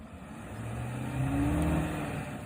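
A pickup truck's engine revs and strains under load while trying to drag a 20,300-pound boulder on rollers, a steady mid-low drone swelling louder toward the middle, close by and without talk.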